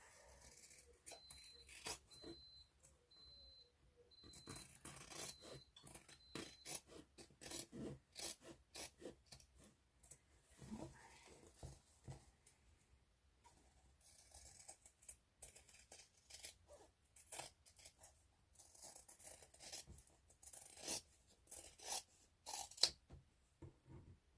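Quiet, intermittent snips and rasping rubs of scissors trimming fabric during hand sewing, coming in irregular bursts close by with no talking.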